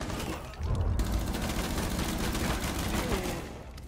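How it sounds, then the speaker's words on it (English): Sustained automatic gunfire in Rainbow Six Siege, a dense, loud burst of rapid shots running for several seconds with a brief pause near the start. "I shot him through a wall!"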